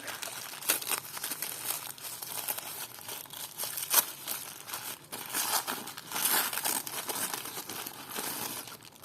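A light yellow plastic packet crinkles and rustles up close in irregular bursts, with sharp crackling handling noises for several seconds and no talking.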